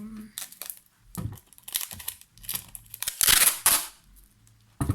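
Crinkly tearing and rustling of adhesive tape pulled from a roll to cover a transparent pocket with dried flowers, in several short bursts with a louder stretch near the end, up close.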